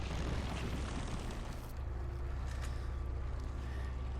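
Rocket launcher fired in the Resident Evil 4 video game, a loud booming explosion with a heavy low rumble that fills the whole moment before easing into a fading roar.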